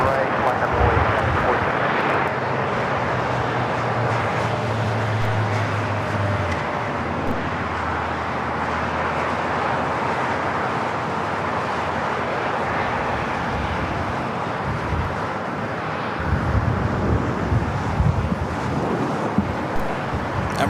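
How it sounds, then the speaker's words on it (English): Emirates jet on its takeoff roll at LAX, a broad continuous engine roar with wind buffeting the microphone, heard from a distance under steady outdoor noise, with voices present. "Emirates flight 216 heading back to Dubai."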